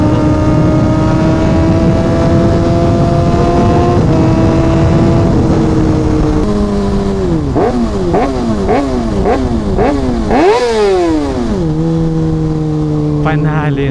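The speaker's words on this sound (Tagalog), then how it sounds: "Panalo yung tunog ng ZX6R guys. Talagang screamer." Kawasaki ZX6R sport motorcycle engine screaming at high revs on a road ride, steady loud wail with repeated sharp rises and drops through quick gear shifts, wind rush throughout.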